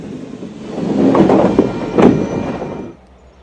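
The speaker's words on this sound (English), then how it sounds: "After leaving Watsonville, 1102 will lead the train through Harkin Slough and start the climb to La Selva." Locomotive 1102 of the Santa Cruz and Monterey Bay Railway hauls a train out of Watsonville through Harkin Slough toward La Selva, a loud, close rumble of wheels and engine that swells, peaks, then drops away abruptly.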